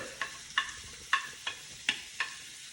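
Southern-style collard greens being stirred in a pot with fat, six soft evenly spaced clinks and scrapes of a spoon over a faint low simmer, close and quiet.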